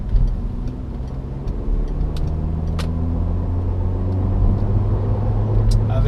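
A Peugeot 307 with the 2.0-litre 16-valve 180 hp engine from the 206 RC pulls in third gear from about 50 km/h. It gives a steady mid-pitched engine drone that swells gradually, heard from inside the car.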